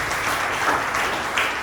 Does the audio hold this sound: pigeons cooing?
no